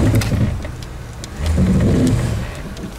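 Engine of a 1997 Lincoln being revved in two surges with a pause between, heard up close with faint clicks and knocks around the engine bay.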